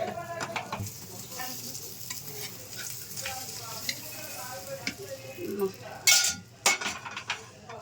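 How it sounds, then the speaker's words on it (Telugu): Idli batter fritters (punugulu) frying in hot oil, a steady close sizzle with bursts of stirring and a few louder scrapes and clinks of utensils near the end. "దీన్ని రెండో పక్క కూడా సిమ్లా పెట్టి వేయించుకుందాం"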